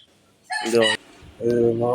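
Chickens on a backyard poultry farm give two loud, close clucking calls, a short burst followed after a brief pause by a longer one.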